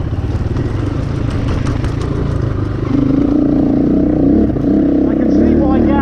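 A GPX 250e motorcycle chugs along in third gear, its engine a steady, close, loud throbbing drone that deepens and swells slightly partway through.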